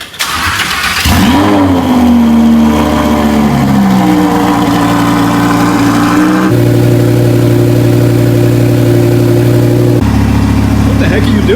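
Rebuilt Lamborghini Huracan engine starting up, then droning loudly and shifting pitch as it revs while driving, with voices talking over it.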